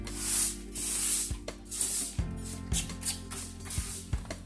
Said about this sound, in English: We want to go ahead and spritz it down a little bit.